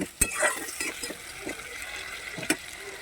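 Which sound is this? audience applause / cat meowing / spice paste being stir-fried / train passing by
spice paste being stir-fried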